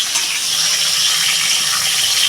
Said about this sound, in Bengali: এই যে শাকটা ধুয়ে নিলাম